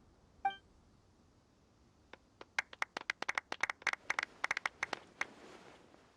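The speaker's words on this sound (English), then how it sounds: "Let's give our champion Kaveh one last big round of applause" A sparse round of video game applause in Genshin Impact, a few hands slapping irregularly for about three seconds, thin and fairly quiet, after a single chime.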